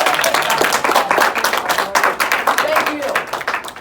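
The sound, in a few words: classroom applause after a presentation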